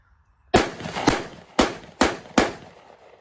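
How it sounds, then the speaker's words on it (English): Mossberg 930 Tactical semi-automatic shotgun firing five loud, close blasts in quick, slightly uneven succession, each booming report trailing off before the next. "Let's shoot some more. All right, let's try 5 more."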